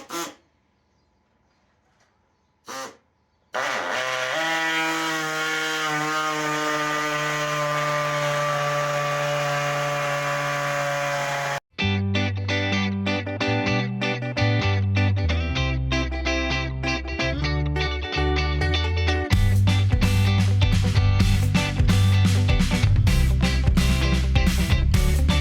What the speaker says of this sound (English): I'm going to use the air saw, so let's cut this thing out.